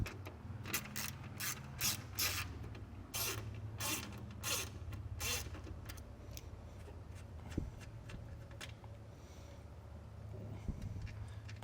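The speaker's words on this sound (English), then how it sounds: "And then we can remove this with a 10 millimeter." A ratchet wrench with a 10 mm socket backing off a nut on a trailer wiring stud, bursts of quick, faint clicking for several seconds, then occasional isolated clicks.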